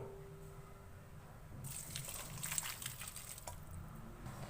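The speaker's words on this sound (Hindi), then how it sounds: "अब यहाँ मैंने एक बाउल पे स्ट्रेनर रख दिया है, इसके अंदर छान लेंगे।" Boiled noodles and their hot water poured through a strainer set over a bowl, giving a steady close gush and splash that begins partway in and keeps running to the end, with no talking.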